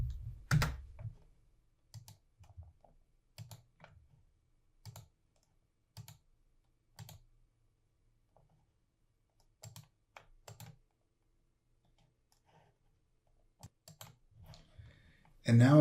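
Scattered bursts of keyboard typing and clicks, short clusters of keystrokes separated by quiet pauses, close and fairly soft.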